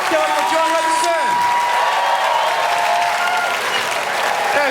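Loud, sustained applause from a stand-up comedy audience, with dense continuous clapping, a few cheers and a voice calling out over it.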